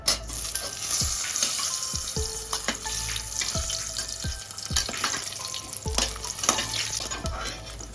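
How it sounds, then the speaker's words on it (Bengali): Whole garlic cloves and dried red chillies fry in hot oil for Champaran-style mutton, a loud continuous sizzle broken by clattering spoon strokes against the pan at irregular intervals. "দেখুন শুকনো লঙ্কাটা পুরো ভাজা হয়ে গেছে"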